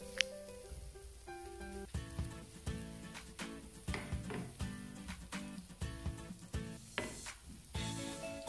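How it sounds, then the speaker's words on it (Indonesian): Garlic and shallots sauté in a pan while preparing Korean japchae, a close crackling sizzle with repeated scraping and tapping of a utensil stirring, no talking. "Kita tumis bawang putih sama bawang merah."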